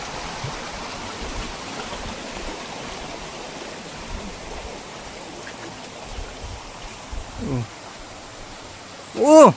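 Strong, steady roar of the Kalitar waterfall in Sindhuli, a dense broadband rush of forceful water filling the whole stretch, with a few brief voice-like bursts rising near the end.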